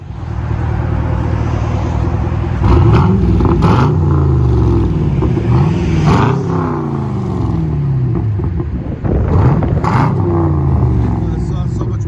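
A 2014 Chevy Camaro SS with a 6.2L V8 and true dual Flowmaster Outlaw exhaust with resonators, rumbling loudly and close, revving repeatedly in rising and falling sweeps throughout.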